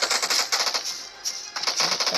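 Rapid automatic gunfire in a shooting video game comes in several quick, crisp bursts separated by brief pauses, sharp and close with no talk over it.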